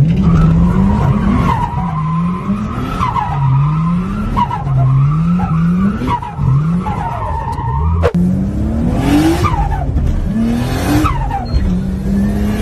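A Nissan Skyline R33 drifts with repeated loud tire squeals, each skid rising and falling over a revving engine in a steady rhythm of slides, close and prominent with no talk.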